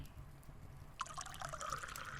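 Hot water for tea is poured into a cup, a soft close trickle that starts suddenly and runs on quietly over a low background hum.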